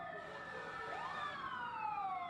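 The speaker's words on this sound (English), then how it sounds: "I remember sitting in the car with sirens blaring" Emergency vehicle sirens wail at 9/11 first response in New York City, a rising and falling electronic tone sweeping up then down, steady and fairly distant over faint traffic rumble.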